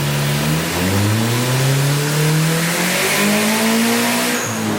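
Nissan 300ZX with a turbocharged SR engine and welded wastegate revving hard on a dyno, loud engine tones climbing steadily through the gears, then dropping off at the end.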